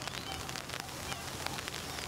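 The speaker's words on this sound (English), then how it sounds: "the rain looks like it may have set in for a little while" Steady rain patters on the surface of a lake on a cold morning, a dense hiss of drops heard close up with no voices.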